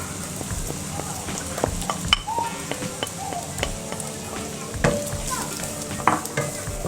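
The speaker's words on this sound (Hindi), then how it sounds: "बिल्कुल हल्का हल्का हम इसको यहाँ पर फ्राई करेंगे" Carrots fry lightly in about two teaspoons of oil with green chillies in a pan, giving a steady close sizzle broken by scraping and stirring knocks of a utensil at uneven intervals.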